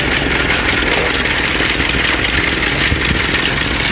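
A Ford Model A with a flathead four-cylinder engine, updraft carburetor and rebuilt distributor, idles steadily and smoothly up close, an even continuous mechanical hum and rattle with no voices.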